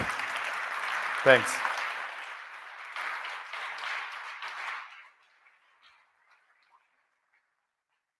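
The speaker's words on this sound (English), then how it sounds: "Applause." Audience applause at a security conference keynote, a wash of clapping lasting about five seconds, marked by a brief whistle, then dropping to near silence with a few stray claps; a voice briefly speaks.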